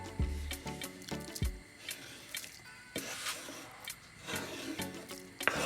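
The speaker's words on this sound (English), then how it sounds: "So I'm going to get in my shred ginger into the water." Shredded ginger going into water for a Jamaican sorrel drink, heard as a few soft splashes and wet rustling mixed with light clinks and handling knocks, close up with no talking.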